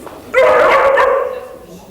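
A dog lets out a single drawn-out bark or yelp, close and loud, lasting about a second before fading away.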